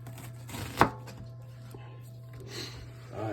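An onion is chopped with a knife for a homemade gnocchi sauce, giving one sharp knife strike on the board with faint handling noise around it.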